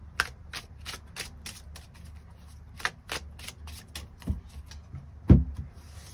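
Tarot cards being shuffled and drawn by hand, a run of quick, crisp riffling flicks in steady rhythm, close and fairly quiet, followed by a few soft thumps as cards are laid down.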